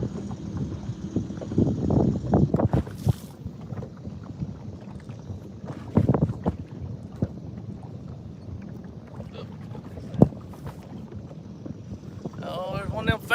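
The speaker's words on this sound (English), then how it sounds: "bass boats coming down through here." Bass boat motors drone past at a distance on the water, with gusting wind buffeting the microphone, and a few faint thumps and clicks punctuate the steady rumble.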